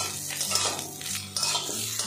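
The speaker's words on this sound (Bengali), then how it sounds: "আলুর সাথে ঝিঙেটাও কিছুক্ষণ ভাজা ভাজা করে নিব" Ridge gourd and potato fry on high heat in a pan, hissing steadily while a utensil scrapes and clinks against the metal in repeated stirring strokes, close and moderately loud.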